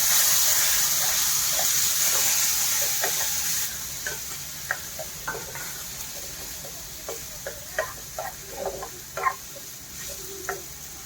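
Boiled dal cooked with tomato is poured into a hot tempering, giving a steady sizzling hiss with scattered pops and spatters as it settles and fries.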